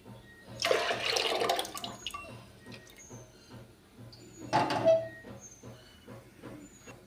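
Water poured into a pot of washed moong dal in two separate splashing bursts, with a quiet pause between them.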